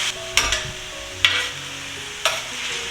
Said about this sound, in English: We'll add in the sauce. Stir it up quickly.